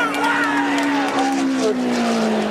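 Stock cars race three wide to the finish line of the Daytona 500, a loud continuous engine roar with pitches sliding slowly downward as the pack drives past.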